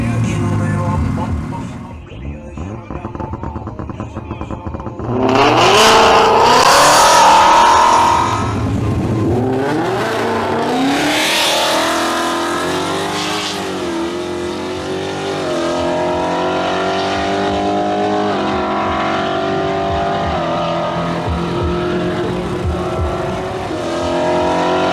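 A red Mustang and a blue Peugeot launching in a drag race, engines revving hard and then roaring through rising and falling gear changes, loud and sustained, with faint voices in the mix.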